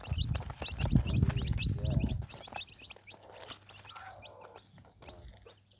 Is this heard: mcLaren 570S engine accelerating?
no